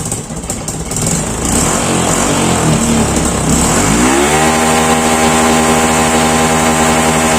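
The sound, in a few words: Honda Wave motorcycle engine sputtering from faulty CDI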